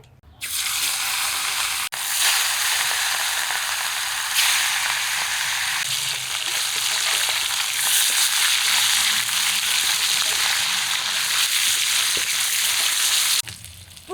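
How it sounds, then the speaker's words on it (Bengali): Loud, steady sizzling of large katla fish pieces frying in hot oil in a wok, a dense crackling hiss that starts abruptly and cuts off near the end. "কড়াইও গরম হয়ে গেছে মাছ ভাজার জন্য তেল দিই"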